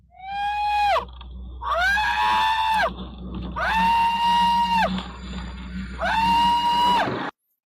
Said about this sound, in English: He starts to scream in what sounds like excitement at first, but then quickly turns to terror